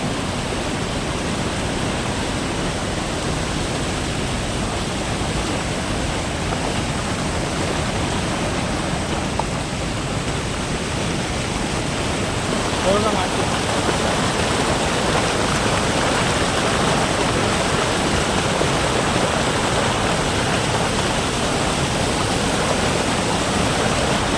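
Water rushes over rocks along a Konkan shore at Goregaon in Raigad, where fishing nets are set. The sound is a loud, steady, hissing roar that runs without a break from start to finish.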